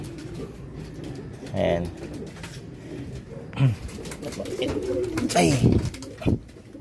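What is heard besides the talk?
pigeons cooing, hen pigeon arriving at the loft during a derby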